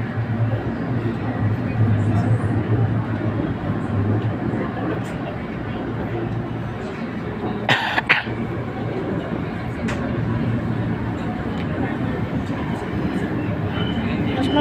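LRT light rail train rolling past, a steady loud rumble of wheels and cars filling the whole stretch with a brief squeal near the middle, voices faintly underneath.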